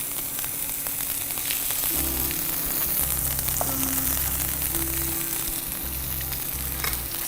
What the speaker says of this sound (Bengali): সামান্য গার্লিক দিয়ে দিচ্ছি। অনিয়ন কুচি দিয়ে দিচ্ছি পরিমাণ মতো।